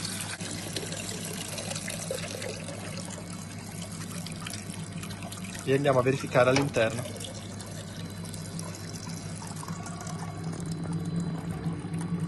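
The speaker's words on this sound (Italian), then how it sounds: "andiamo ad aprire il portello per estrarre l'acqua" Water drains out of the cylinder of a Multifreeze machine through its opened door after a cleaning cycle, a brief gush and trickle amid steady machine hum, with someone talking over it.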